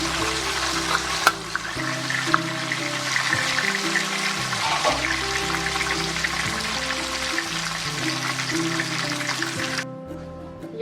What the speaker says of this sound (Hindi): ये शामी कबाब हमने फ्रीज कर लिए थे, अभी हम इनको फ्राई कर रहे हैं